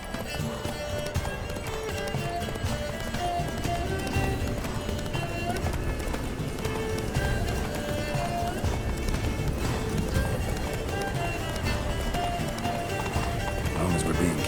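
Roach, Geralt's horse in The Witcher 3, gallops with steady rapid hoofbeats under a dense bed of game music and ambience, with voices talking over the ride.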